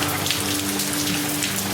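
Steady rain falls outdoors on an October morning during a whitetail deer bow hunt, a dense, even patter of drops on surfaces that continues without a break and with no voices.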